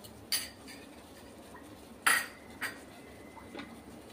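A single egg being beaten with a utensil in a bowl for chicken Manchow soup, heard as a few sparse, quiet clinks and scrapes of metal against the dish with pauses between them, with no talking.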